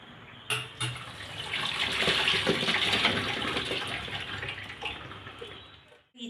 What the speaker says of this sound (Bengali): আমি ইঁচড় থেকে জলটা ঝরিয়ে নেব।